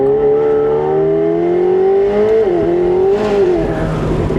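A 2025 McLaren 750S Spider accelerates hard, its engine note climbing loud and close through the gears, with a brief dip at a shift before rising again.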